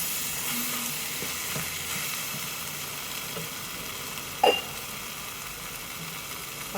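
Chopped raw green plantain frying in a pan for Kerala-style pig fry, giving a steady close sizzle throughout with a brief sharp clink partway through.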